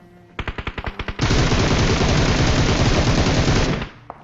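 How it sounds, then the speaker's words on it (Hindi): Heavy gunfire erupts in a battle royale video game: a quick string of about eight separate shots, then a dense, continuous roar of automatic fire for roughly two and a half seconds before it cuts off, loud and close. "पीछे तभी जो है तगड़ा वाला फायरिंग होना स्टार्ट हो जाता है"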